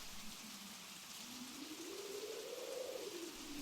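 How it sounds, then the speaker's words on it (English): Steady rain falls on pavement and puddles in a broad, even hiss, with a faint rising and falling tonal hum underneath; no voices. "Just 20 minutes ago, I was cursing this rain, and now I'm kinda hoping it never stops."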